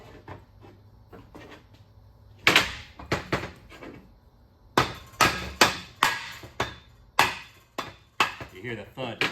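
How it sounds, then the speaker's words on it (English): A hammer knocks a machined receiver into a Ford 9-inch axle housing, about a dozen sharp, loud metallic thuds in an irregular rhythm, first scattered, then quicker and steady. "I'm gonna line it up, and then I'm just gonna knock it in."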